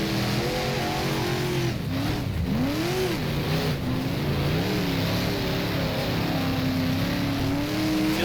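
Super late model race car engine in the rFactor racing game at Lernerville Speedway, a steady loud drone with pitch rising and falling through gear changes, sounding boggy and low on revs.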